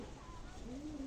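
A Tiger Giribaz pigeon gives a soft, brief coo that ends in a rising tone, faint and close, with no other sounds.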